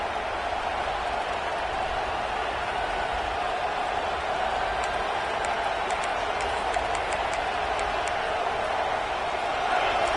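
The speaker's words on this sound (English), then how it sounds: "The roar of the crowd trying to fuel this defense to keep them pinned in their own end" A dense, steady roar from a packed stadium crowd at an American football game, loud and unbroken throughout, with a commentator's voice faintly under the noise.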